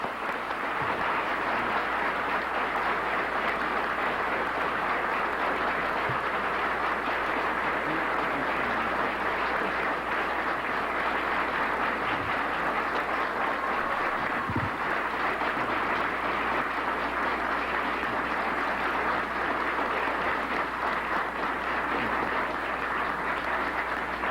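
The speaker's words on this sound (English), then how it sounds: "Please receive him with a round of applause" Sustained, dense applause from a large crowd greeting Minister Louis Farrakhan at a speaking event fills the space evenly for a long stretch, loud and unbroken.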